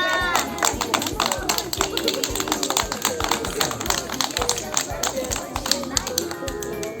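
Children at a school first-day assembly clap their hands loudly, a dense, continuous burst of claps mixed with crowd noise and voices throughout.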